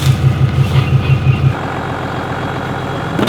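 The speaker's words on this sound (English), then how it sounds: "Now we're driving another giant truck through my yard." A large truck rumbles at low speed through a muddy yard, its engine drone steady with a rhythmic series of pulsing tones at first, then settling into a plain engine hum.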